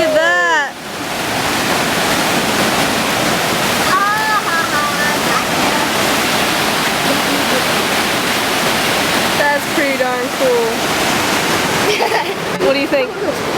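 Dawson's Falls waterfall roars in a steady, loud broadband rush that fills the whole scene, with people laughing and talking briefly over it now and then.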